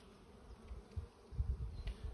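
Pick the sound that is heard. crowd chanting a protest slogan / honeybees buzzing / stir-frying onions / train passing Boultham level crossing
honeybees buzzing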